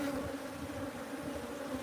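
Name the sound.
bees buzzing at a hive box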